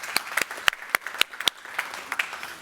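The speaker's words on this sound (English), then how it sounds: "let's give a big round of applause to our guests" A small audience at a talk on moving from military life into industry gives sparse applause for the guests, a handful of distinct claps close by that trail off within a few seconds.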